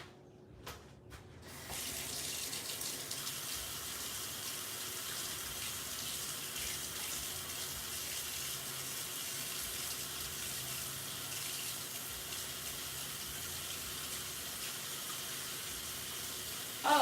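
Water runs steadily from a tap into a sink for about fifteen seconds while ink stir sticks are rinsed clean, a constant close hiss after a few brief knocks at the start.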